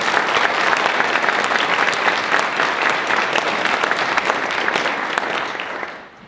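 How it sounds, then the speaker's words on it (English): Sustained crowd applause at an elementary school ribbon cutting ceremony, a broad wash of clapping that holds for several seconds and then drops off sharply at the end. "I'd like to give them a round of applause as well."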